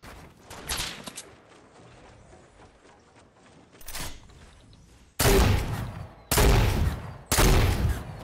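Bursts of gunfire in the Fortnite battle royale video game: quieter scattered shots early on, then three loud, close, dense volleys in quick succession near the end.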